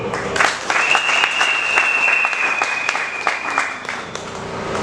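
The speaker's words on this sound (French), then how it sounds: "Vous pouvez applaudir très fort." Audience applause at the official launch of a new Kasai Central directory, a loud, dense burst of clapping close by that holds steady for several seconds, with a sustained whistle-like tone running through it.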